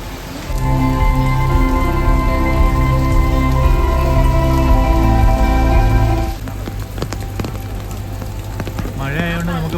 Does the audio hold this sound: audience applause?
no